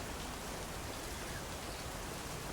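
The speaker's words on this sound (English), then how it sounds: "Oh, lovely, it's raining outside." Steady rain falls outside in the video game Big Ambitions, an even, continuous wash of hissing patter at moderate distance, unbroken and without talk.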